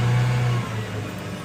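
A K2500 engine with low power and a vibration fault revs up, a steady mid-low drone that drops in pitch partway through, close and fairly loud.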